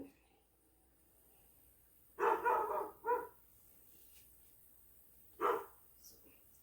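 A dog barks a few times in the distance, a short cluster of barks followed by a pause and one more bark, with quiet background otherwise.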